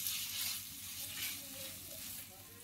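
Chicken frying in a pan with soy sauce and chili sauce gives a steady, moderate sizzle with light stirring scrapes throughout, no voices over it.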